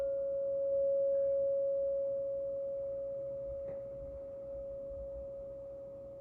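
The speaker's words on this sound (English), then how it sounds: "We're going to focus as best we can on the sound of the bowl as we inhale." A singing bowl rings with one steady pure tone that holds throughout, slowly fading from moderate to softer over a low background hum, with no speech.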